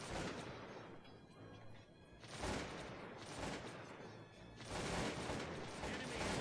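Massed musket volleys crack out in the Cossacks 2 battle game, broad bursts of rolling gunfire that swell in waves, loud and dense, with one lull around the two-second mark before the firing resumes.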